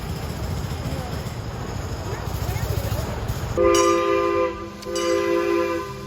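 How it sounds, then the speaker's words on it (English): A Six Flags Over Georgia mine train coaster rumbles by, then sustained tonal horn-like blasts sound out over the steady rolling noise, fairly close and loud. "there comes the mine train"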